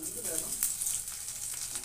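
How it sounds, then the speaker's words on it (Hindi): Garlic, dried red chillies and black cumin sizzle steadily in hot oil in a pan, a close, continuous frying crackle heard with no talk over it. "लहसुन को थोड़ा सा फ्राई करेंगे।"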